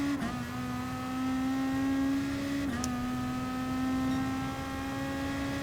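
Race car at full throttle in Gran Turismo Sport during a daily online race, a steady, loud engine drone holding high revs with two brief dips in pitch like quick gear changes.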